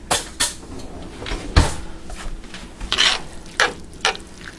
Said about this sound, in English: I'm going to get a couple of spoons here.